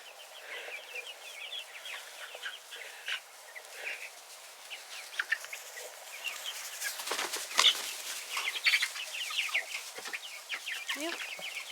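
Rhode Island Red chickens outdoors, repeated soft clucks and short calls from several birds, scattered and irregular, growing busier and a little louder toward the end, no voices.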